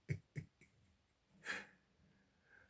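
A pet cat snores or breathes noisily at close range. Two quick snorting breaths and a weaker third come in a short series, followed by a longer, raspier breath after a pause.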